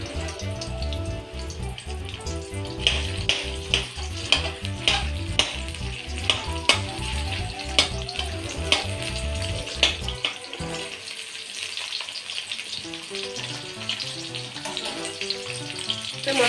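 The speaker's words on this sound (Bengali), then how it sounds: "এই তো তেল দেওয়া হয়ে গেছে, এই যে পেঁয়াজ কুচি কড়াই দেওয়া হয়েছে।" Chopped onion fries in oil in a wok (kadai) for a home-cooked chicken kosha, giving a steady close sizzle with rhythmic stirring scrapes that thins out in the last few seconds.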